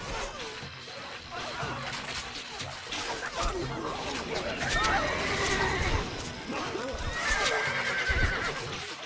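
A horse whinnies twice in the Stronghold Crusader game, mission Rivers of Blood, amid hoof clatter, crashing battle noise and voice babble, fairly loud and busy throughout.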